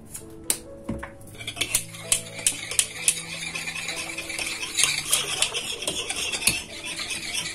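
A spoon stirs and dissolves a pancake batter mixture in a bowl as agave syrup is added, producing repeated soft scraping and clinking strokes at close range, steady and rhythmic with no talking.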